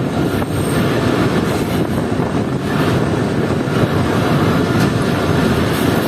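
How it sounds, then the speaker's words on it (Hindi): Marvi Passenger train running through the Thar Desert, with a steady, loud rumble of wheels and carriages on the track that continues throughout, with no voices. "अब ट्रेन एक और इस रेलवे स्टेशन पर पहुंची है"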